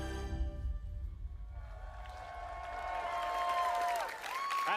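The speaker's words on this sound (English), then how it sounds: "You're cheering for me." An audience at the E3 EA Play show cheers and applauds, the broad crowd noise swelling over a few seconds, mixed with sustained musical tones and some voices.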